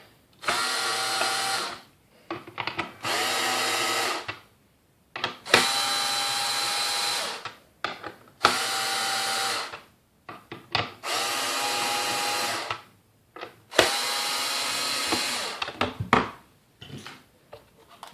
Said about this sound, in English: you want to do 3-4 turns on each screw to get the reflector out evenly